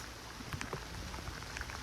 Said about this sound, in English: Here comes the rains.